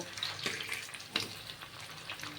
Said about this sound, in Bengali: তুলে দিয়ে দুই পিঠে ভালো করে ভেজে নেব